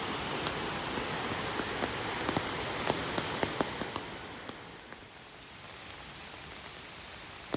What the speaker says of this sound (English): It's still pitter-pattering with rain